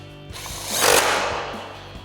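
A power tool with an 8mm socket drives two screws back in at the bottom of a 2021-2023 Ford F-150 during a fog light install, a brief close whirring burst rising and fading over about a second, alone.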